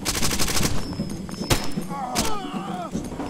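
MP5 submachine gun fire in the shooter game Far Cry 2 rattles in fast bursts, loud and close, with sharp single cracks and a mix of game effects and background noise around them.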